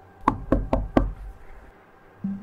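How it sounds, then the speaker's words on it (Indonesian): Four firm knocks land on a house door in quick, relaxed succession, close and resonant, followed by quiet room tone and a brief low hum near the end. "suara ketukan di pintu terdengar santai"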